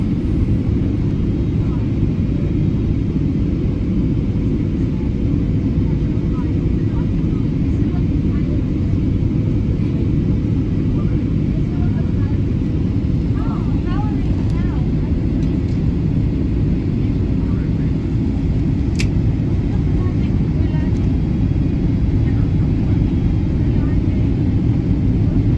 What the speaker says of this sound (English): we have landed safely at Allama Iqbal International Airport